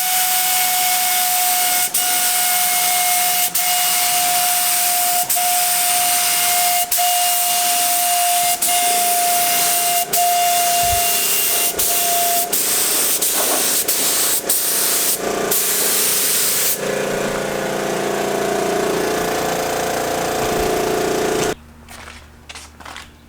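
A spray gun lays heavy coats of clear coat onto a subscriber's car, a steady loud hiss running almost without a break, with a high whistling tone through the first half and a short drop and sputter near the end.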